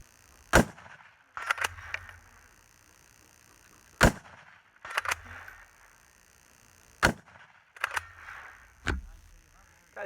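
An Oceania Precision SP-25 rifle is fired from a rest on a log outdoors. Four sharp, loud shots come a few seconds apart, each with a brief echo and faint handling noise between them.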